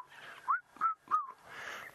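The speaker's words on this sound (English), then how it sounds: "There's the red-chested cuckoo calling again," A red-chested cuckoo calls in the wild at sunset on an African safari, giving three short, clear whistled notes in quick succession, near and distinct, over a faint bed of other background sound.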